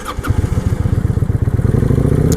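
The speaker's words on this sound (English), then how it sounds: "we're gonna go ahead and start the bike up" A used motorcycle's engine fires up and settles into a loud, steady, rapidly pulsing idle that runs for the rest of the moment, with no one talking over it.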